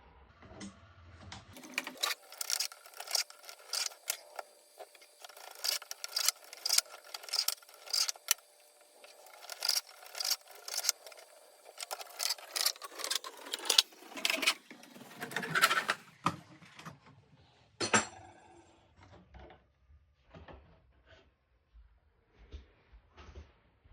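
An electric bread slicer cutting through a baguette and a loaf of bread, giving a near, steady buzzing mechanical chatter in repeated bursts that fades into scattered clicks and light handling noises.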